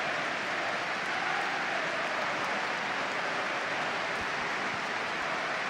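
Newcastle fans in a Premier League stadium, hosting Manchester United, give a sustained tribute applause: a dense, steady wash of clapping from a large crowd that holds evenly throughout without pause.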